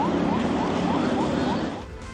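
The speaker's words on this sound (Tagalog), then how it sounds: "binasag ang katahimikan ng malakas na tunog ng sirena mula sa CCG vessel" Loud siren from Chinese Coast Guard vessel 5303 at sea, a steady wailing tone with rising sweeps repeating about every quarter second, heard over a low engine drone before fading slightly at the end.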